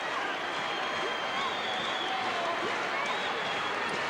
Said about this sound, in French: l'acclamation pour Fabien Lefebvre